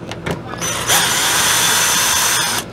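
A power drill whirs continuously while backing screws out of the plastic garnish on an RV air conditioner, close and steady after a few short bursts, with a brief pause near the end.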